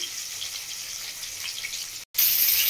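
Rui fish pieces frying in hot oil, giving a steady close hiss and crackle throughout, broken by a brief dropout and then a louder burst of sizzling.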